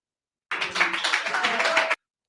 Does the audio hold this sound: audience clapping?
yes